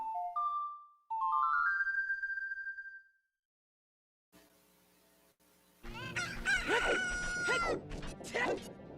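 Video game chicken sounds from Ocarina of Time Randomizer: a rising synthesized tone, then after a pause a burst of clucking and a rooster crow, with game music and effects around it.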